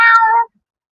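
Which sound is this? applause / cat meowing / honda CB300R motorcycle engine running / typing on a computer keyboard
cat meowing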